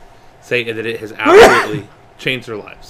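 A single sharp sneeze in the middle of a conversation, loud and close, with people talking just before and after it.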